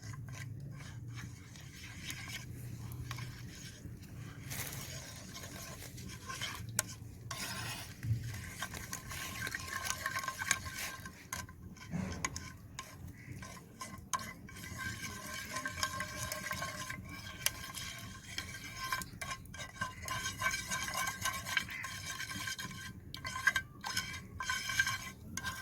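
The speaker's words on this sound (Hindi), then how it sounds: "3 चम्मच कॉर्नफ्लोर के, इसको भी अच्छी तरह मिक्स कर लेंगे ऊपर रखे बगैर आग के" Spoon stirring three spoonfuls of cornflour mixed with liquid in a cup, off the stove: continuous soft scraping and clinking against the container, close and fairly quiet.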